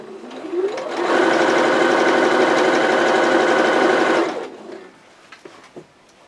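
Close and loud, a sewing machine stitches a double-folded hem on a pillowcase baby dress in one continuous burst of about three seconds, rising from a short start and winding down.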